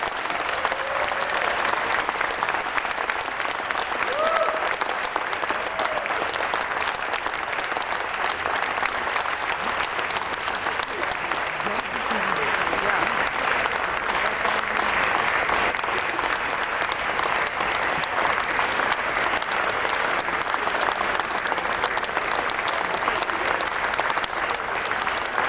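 Sustained audience applause for the performers at a 2010 concert, a dense, even wash of clapping from a large crowd lasting throughout with no break.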